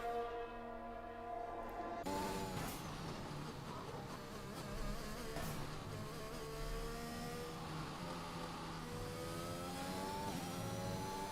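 In the video game TakeOver Racing, race car engines rev and whine as several cars head out onto the track. The buzzing engine tones rise and fall steadily and keep going without a break.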